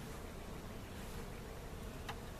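Honey bees hum steadily around a nuc hive split made from a hive that had swarm cells, a faint, even buzz heard close by with no talking.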